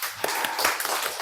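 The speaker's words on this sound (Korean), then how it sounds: "주님께 감사, 영광의 박수 한번 돌리세요" Applause from a church congregation during a missionary's sermon, a dense wash of many hands clapping at once, steady and fairly loud throughout the short burst.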